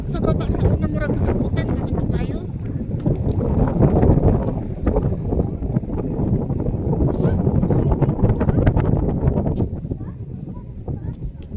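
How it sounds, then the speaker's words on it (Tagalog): Strong wind buffets the microphone on the Sarangani highland, a constant rough roar throughout, with people talking over it. "Kaya nga mahangin."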